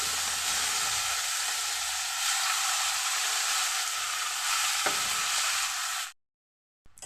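Washed karmi greens drop into hot oil tempered with bay leaf, giving a loud, continuous hissing sizzle with a faint stir partway through. It stops abruptly near the end, followed by silence.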